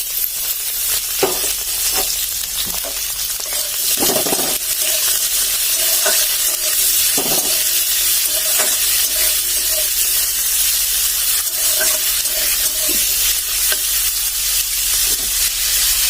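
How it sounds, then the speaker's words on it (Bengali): Onions fry in hot oil alongside jackfruit seeds and get stirred, giving a steady close sizzle with intermittent scraping and clinking of the spoon against the pan. "এবার পেঁয়াজগুলো এর সঙ্গে ভেজে নেবো"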